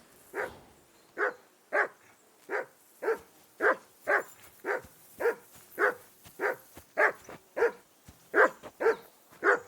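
A dog in the medieval game Kingdom Come: Deliverance II barks steadily, about fifteen sharp, evenly spaced barks in a continuous run, near and loud, with no talking over it.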